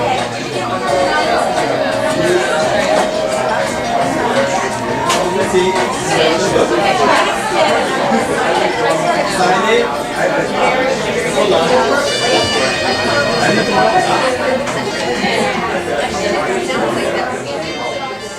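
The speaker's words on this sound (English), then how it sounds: "Wow, what a great crowd already." A crowd chatting at a cafe event in a lounge in New York City, a dense, continuous babble of many overlapping voices filling the room at steady loudness throughout.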